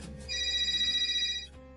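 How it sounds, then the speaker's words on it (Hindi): A phone rings with an incoming call, a steady electronic ringtone about a second long that stands out clearly and stops abruptly, with music underneath and no voices. "और एक दिन कनिका के फोन पर एक कॉल आता है।"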